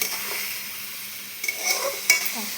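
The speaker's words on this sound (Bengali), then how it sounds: "দিয়ে আমি ভালো করে কষাবো ভালো করে কষিয়ে ভালো করে কষিয়ে" Spices with turmeric being stir-fried in a pan produce a quiet, steady sizzle, then a few scraping stirs and a brief clink of a utensil against the pan near the end, with no voices.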